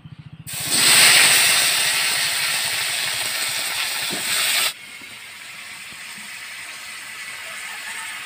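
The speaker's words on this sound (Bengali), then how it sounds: "পেঁপে আর আলুটা একটু ভাপিয়ে নেব।" Papaya and potato steaming in a pot let out a loud hiss that bursts in suddenly, holds steady for a few seconds, then falls to a softer bubbling hiss, close up and with no voices.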